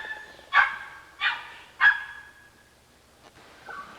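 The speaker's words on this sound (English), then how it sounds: "Here is guarded by the ghost dog. We can hear him, but we can't see him." A dog outside big houses barks three times at a steady pace from some distance, then one softer bark trails off in quiet surroundings.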